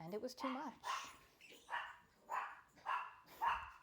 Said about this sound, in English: You can hear my dogs barking.